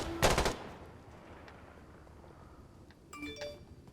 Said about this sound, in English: Getting shot at, getting shot at, getting shot at.